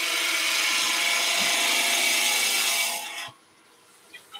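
Loud, close grinding of a woodcut mill drill carving a decorative pattern into a wooden pepper grinder, steady for about three seconds, then cutting off and leaving faint knocks.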